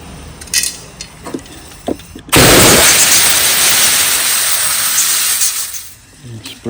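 Compressed air blasts into a 19.5 hp Briggs and Stratton small engine with a head gasket fault, clearing out debris in a loud, steady hiss of about four seconds, preceded and followed by light clattering handling noises.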